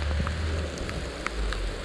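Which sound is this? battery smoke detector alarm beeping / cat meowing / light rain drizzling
light rain drizzling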